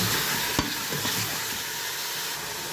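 Half a kilo of mutton fries in a pot with a loud, continuous sizzle and a bright hiss. A single sharp knock sounds near the start, and light stirring scrapes run through the close, steady frying.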